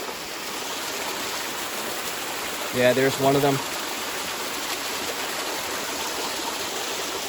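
The smaller of two waterfalls pours into a river at Bear's Den in New Salem, Massachusetts, making a steady broadband rush throughout. Someone speaks briefly over the constant water noise.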